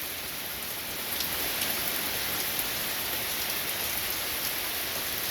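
Steady rain falling outdoors on a wet day, a dense even hiss of drops on surfaces, soft and constant with no voices, slightly louder after the first second.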